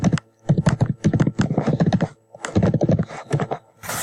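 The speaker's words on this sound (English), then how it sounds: "let's just go ahead and type this in." Typing on a computer keyboard into a Google search tool, loud close bursts of rapid key strikes in clustered runs separated by short gaps.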